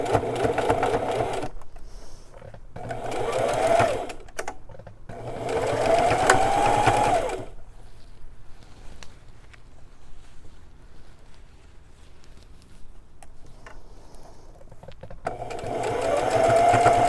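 A sewing machine stitches a hem on a pair of jeans, running in several loud whirring bursts separated by quiet pauses, close to the listener and with no talk.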